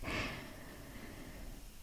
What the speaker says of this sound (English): I'll try and sniff our way back.